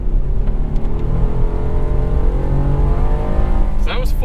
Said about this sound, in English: So that was full throttle from about 25 miles per hour, and it kept its grip.